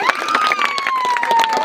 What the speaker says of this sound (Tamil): இந்த மாணவ செல்வங்களுக்கு ஒரு நடவ கரகோஷை எழுப்பலாமா?